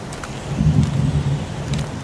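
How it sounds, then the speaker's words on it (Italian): Steady heavy downpour of rain in the video game Heavy Rain, a constant low rumbling wash with faint thunder-like swells in the background. "Piove a dirotto!"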